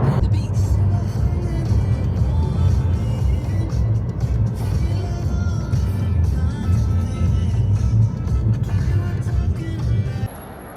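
A car on the road gives a steady, loud low rumble of engine and tyre noise that holds evenly for about ten seconds, then cuts off abruptly near the end.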